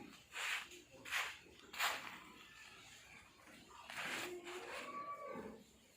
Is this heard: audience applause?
no